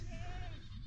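A newborn goat kid gives a thin, wavering bleat in a barn during kidding season, close and fairly clear over low rumbling background noise, one drawn-out cry lasting about half a second.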